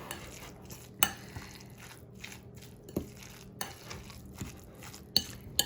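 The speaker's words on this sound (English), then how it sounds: "So I'm just gonna mix that in." Chicken salad with cranberries stirred in a bowl, soft irregular scraping and a few sharper utensil knocks against the bowl, close and fairly quiet with no talking.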